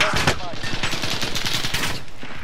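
Rapid automatic gunfire in a battle royale video game, a dense burst of close, loud, evenly spaced shots running the whole time, with a voice speaking over the start.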